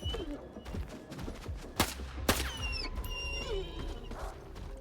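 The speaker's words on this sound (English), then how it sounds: "Shooting at the ground." Gunfire aimed at the ground in S.T.A.L.K.E.R. 2: Heart of Chornobyl, two sharp close shots amid scattered impacts and clatter, followed by ringing game effects.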